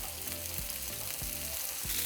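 Chiles serranos fry in a pan with a steady, dense sizzle and crackle, loud and close throughout, with a few soft stirring scrapes and no talk.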